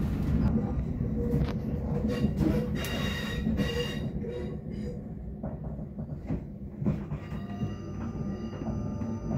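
A South Western Railway Class 458/5 electric train, units 458538 and 458532, runs on the service to Reading with a steady loud rumble, rattling knocks and brief high wheel squeals, while voices are faintly heard.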